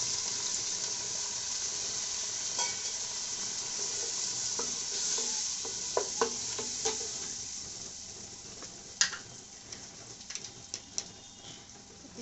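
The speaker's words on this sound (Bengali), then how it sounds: "মশলাটা কষানোর জন্য একটু পানি দিয়ে দিলাম" Spice paste with green chillies and chilli powder frying in a pan after a splash of water, a quiet low sizzle with scattered stirring clicks and scrapes of the spoon, close and without talk.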